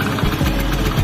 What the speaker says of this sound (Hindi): बाइक स्टार्ट हो गई है और ये पूरी एक्सीलेटर नहीं ले पा रही है।